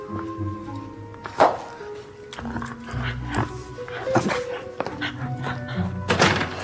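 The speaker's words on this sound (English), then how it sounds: "We've established you're a completely useless guard dog" A dog named Binky giving a few short barks and whimpers indoors, mixed with thuds, a door-like knock and faint voices in a room.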